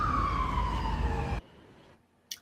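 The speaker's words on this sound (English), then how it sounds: "that ambulance noise, man, it gets me all the time" An ambulance siren passes outside with a falling wail that cuts off abruptly after about a second and a half, followed by near silence and a brief faint click.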